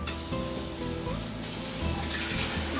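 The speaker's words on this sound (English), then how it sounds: "I'm just sauteing up a few scallops here" A few scallops sautéing in a pan give a steady, close sizzle with bright hissing, accompanied by faint tonal kitchen hum.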